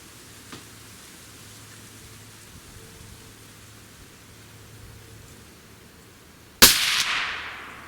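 A single loud rifle shot fired with Barnes JHP ammunition cracks suddenly outdoors after quiet ambient noise, then decays into a long echoing tail.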